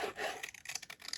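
Paper scraps are cut up for a craft decoration, giving a short run of dry, scratchy rasps and rubbing strokes up close, with no talk.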